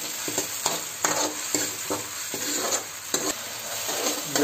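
Onion and tomato stirred in a hot frying pan with salt, a steady sizzle broken by repeated scraping strokes of a spoon roughly every half second, close and clear with no talk.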